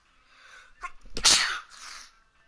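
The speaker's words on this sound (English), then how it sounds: "I'll be sneezing a lot." A single loud, close sneeze from a stuffed-up person, a sharp inhale followed by an explosive burst that trails off, with near silence around it.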